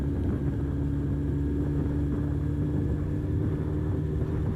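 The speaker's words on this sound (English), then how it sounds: "Blooming Mole Valley truck." A Mole Valley truck rumbles past on a rural road, a steady low engine drone that stays fairly loud and continuous for the whole stretch, with no talk.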